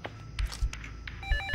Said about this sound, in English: Guys, answer the phone!